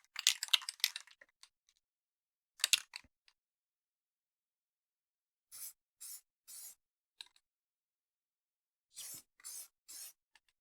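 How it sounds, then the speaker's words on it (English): Short hissing bursts of brown spray paint sprayed heavily through mesh onto a Mk18 clone rifle, several quick sprays in clusters separated by pauses, close by. "Actually got to spray it pretty heavy for it to go through the mesh."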